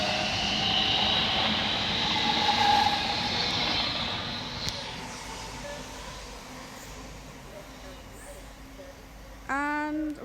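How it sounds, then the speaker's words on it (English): A TfL Rail train to Heathrow Terminal 5 pulls into West Ealing station with a broad, steady roar that slowly fades, ending in a brief squeal of brakes. "arriving in now is the 1314 TfL rail service to Heathrow Terminal 5"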